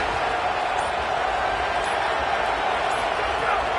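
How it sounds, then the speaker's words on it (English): A packed football stadium crowd roars steadily before a big third down, a dense, sustained wash of cheering with no breaks. "this crowd is ready"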